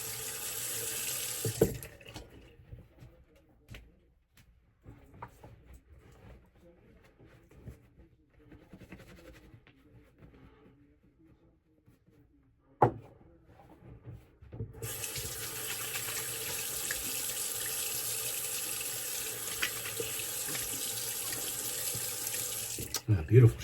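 A bathroom tap runs into a sink for rinsing after a shave, starting in a brief burst, then quiet handling noises before a strong, steady stream of water pours for the last stretch.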